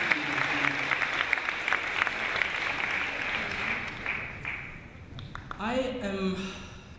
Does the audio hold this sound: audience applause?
yes